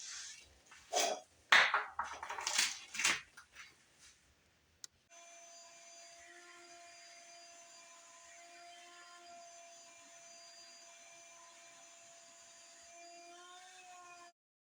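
A vacuum cleaner runs steadily for about ten seconds in a boat-building shop, starting abruptly after a few loud knocks and shuffling, then cutting off near the end.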